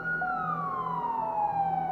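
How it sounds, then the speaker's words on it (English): A police siren wails alone at steady loudness, its tone sliding slowly downward, with a second siren tone and low traffic rumble underneath. "Police sirens."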